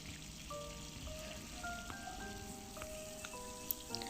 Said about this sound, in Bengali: কড়ার মধ্যে দিয়ে দিলাম তেল দিয়ে আমি বেগুনগুলো এক এক করে দিয়ে দিচ্ছি।